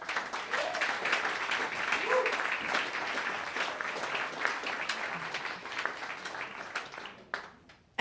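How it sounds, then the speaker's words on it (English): Audience at a live comedy show applauds the evening's volunteers, a sustained wash of clapping that stays steady and then thins out near the end, moderately distant and unaccompanied by talk. "give a big round of applause for all the volunteers this evening"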